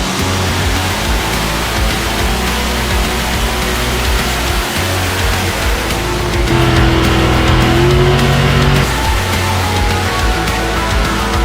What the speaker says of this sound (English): we need something that can do really sick burnouts